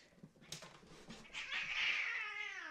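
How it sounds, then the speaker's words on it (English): Two house cats fight, trading growls and scuffles before one lets out a long, rising, wavering yowl, heard at a moderate distance from indoors. "My cats were freaking out at each other."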